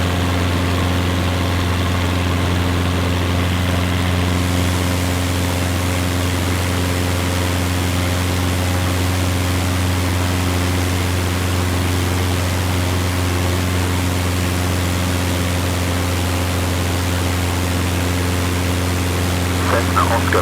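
A Cessna engine drones steadily during takeoff in a flight simulator, loud and unbroken, with a voice talking over it.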